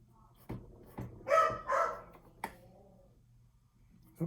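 Dogs bark at the roadside of the 2025 Tour de France Femmes stage 7, giving a couple of short mid-distance yaps between sharp clicks and soft background noise.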